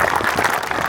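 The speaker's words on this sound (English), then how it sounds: "So a round of applause." Brief burst of audience applause at a community fundraising gathering in a Pakistani home in Chandler, a dense steady patter of many hands clapping close by, with no voices over it.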